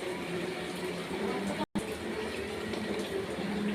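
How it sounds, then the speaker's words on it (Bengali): Rohu fish pieces going into a pan holding a little water, giving a steady broadband watery sizzle and bubble throughout, broken by one brief cut near the middle. "বেশি জল দেবো না, এবার এতে মাছগুলো দিয়ে দেবো।"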